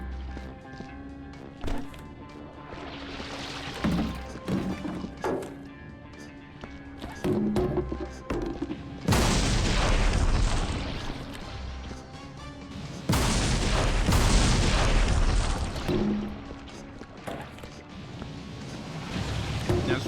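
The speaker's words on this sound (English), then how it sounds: "But I'll admit, the explosions are entertaining." Explosions boom in the video game Viscera Cleanup Detail, two long loud blasts with rumbling noise amid scattered thuds and clatter, with a voice talking briefly between them.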